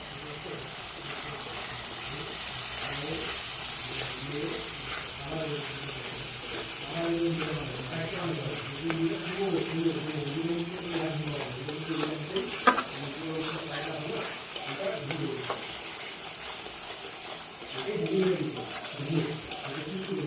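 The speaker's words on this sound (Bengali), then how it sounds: "এই দেখো মশলাটা ভালোভাবে কষিয়ে নেব" Spice masala with salt and turmeric stir-fried in a pan for raw banana kofta: steady rhythmic scraping stirs over a continuous sizzle, up close, with some faint background noise.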